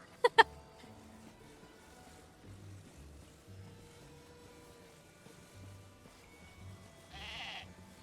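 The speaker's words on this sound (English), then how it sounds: "Don't attack me, sheep." A sheep bleats briefly and fairly faintly near the end in the video game Zelda: Tears of the Kingdom, over a quiet electronic background with soft tones and a pair of sharp clicks at the start.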